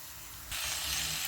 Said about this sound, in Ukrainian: перевертаю на іншу сторону і також смажу до рум'яності